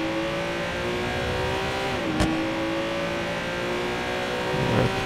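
A car engine in Watch Dogs 2 hums at a steady drone, dips briefly in pitch as it shifts, then keeps running with a short burst near the end.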